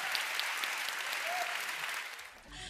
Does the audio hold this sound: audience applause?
yes